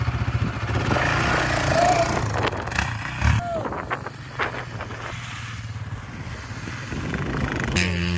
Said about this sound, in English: I'm about to ride this brand new quad